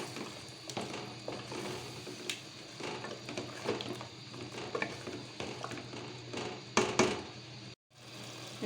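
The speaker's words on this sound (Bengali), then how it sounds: "এখন আমি মুরগির মাংসের পিসগুলো এখানে দিয়ে দিচ্ছি। এভাবে আমি ভালো করে 5 মিনিট কষিয়ে নিব হালকা জালে।" Chicken pieces sautéing over low heat in a pot for chicken soup, a soft continuous sizzle with scattered clinks and stirring scrapes, close and moderately quiet, briefly cutting out near the end.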